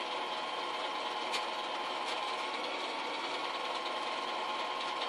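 A sewing machine stitches steadily around a petal on a summer quilt, its fast even motor whir running continuously and close, with no pauses and no talking.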